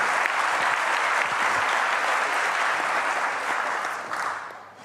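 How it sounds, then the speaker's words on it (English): Audience applause at a public debate, a loud, even burst of clapping from a full room that holds steady and then tapers off over the last second. "Let's give him a round of applause."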